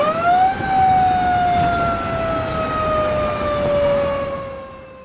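A fire truck siren wails loud and close, rising then sliding slowly downward in a long sweep over a low engine rumble.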